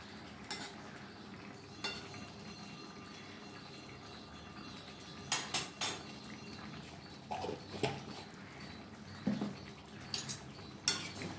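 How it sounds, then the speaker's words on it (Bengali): Spoon stirring ghee into chicken curry gravy in a cooking pot: soft scattered clinks and scrapes against the metal, quiet and close, with no talking. "ঘিটা আমি মিশিয়ে দিলাম ঝোলের সাথে"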